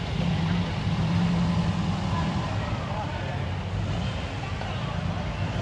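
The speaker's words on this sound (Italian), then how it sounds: "sentite che sgasate, ragazzi" Engines of MG cars at a club rally rumble and rev continuously nearby, a steady loud drone with people talking over it.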